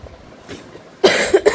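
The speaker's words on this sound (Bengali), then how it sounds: "তাও কাশিটা আছে" A person coughing, a couple of sharp close bursts near the end following quieter background rumble.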